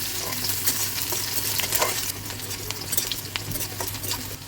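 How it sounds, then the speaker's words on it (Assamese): Onions frying in a pan for mung dal with spinach, a busy close sizzle with crackles and scraping stirs, steady throughout, no one speaking. "পিঁয়াজখিনি লাল হোৱালৈকে ভাজিব লাগিব"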